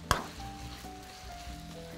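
Food sizzles steadily in a frying pan as it is stirred, with one sharp clink of the utensil against the pan near the start and a faint hum beneath the frying.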